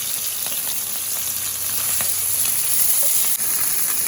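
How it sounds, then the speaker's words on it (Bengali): Small mourala fish being lightly fried in hot oil in a wok give off a steady, close sizzle and crackle that continues evenly throughout, with no talking. "ওদিকে মাছগুলো ভাজা হতে থাক"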